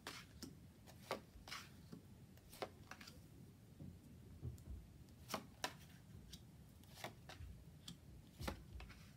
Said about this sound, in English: a bit of rubbish shuffling, I'm afraid to say.